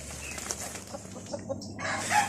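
Chickens cluck around a rural Thai homestead, several birds calling in an uneven stream of short clucks with some wing flapping, fairly near and without talk.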